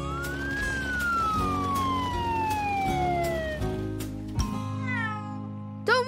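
A cartoon kitten in a children's TV show gives a long, drawn-out meow that slides downward in pitch, followed by shorter wavering mews, over a steady musical background.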